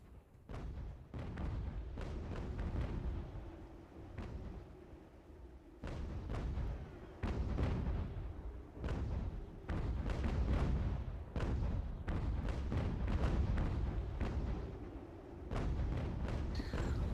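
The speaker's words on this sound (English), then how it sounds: "let's see what the cannons can do" Repeated heavy cannon blasts from the video game Ultimate General: American Revolution boom in irregular bursts, each a loud low thud with a rumbling tail, close and punchy.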